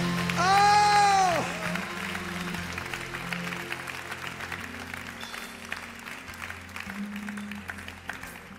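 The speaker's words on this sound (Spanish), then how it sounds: "Denle un aplauso al Espíritu Santo." A church congregation applauds in a steady, mid-level patter. A sustained sung or shouted voice rises over the start, and the clapping continues underneath to the end.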